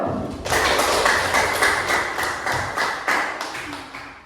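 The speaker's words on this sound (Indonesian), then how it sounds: "Tepuk tangan dulu" A class in an Islamic studies lesson claps hands in a steady rhythm, a run of sharp, evenly spaced claps about twice a second, continuing for several seconds with light room echo.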